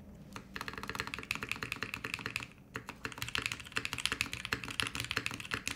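Rapid clacking of Camping Life mechanical keyboard switches, fast irregular keystrokes close up, with a short pause midway before typing resumes.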